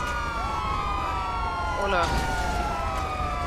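A wailing emergency siren sweeps up and down in GTA roleplay during a police shootout with a cartel. It runs steadily through the clip beneath voices talking over it.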